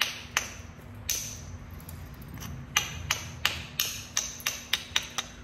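Coral is flintknapped, struck repeatedly to bevel and thin the edge of a dovetail point, giving sharp hard taps at irregular intervals that quicken toward the end, close-up over a low steady hum.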